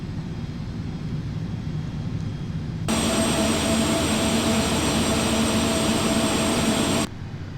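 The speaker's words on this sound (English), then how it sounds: "So this is just going to be some boring taxiing." A Carenado Premier 1A business jet taxiing in a flight simulator gives a steady jet engine whine. It rises to a louder, brighter, sustained roar with a high tonal hiss partway through, then drops back near the end.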